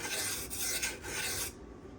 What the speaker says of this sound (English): I'm running the knife across real quick, just to remove that tape off the bevel that I didn't cut off.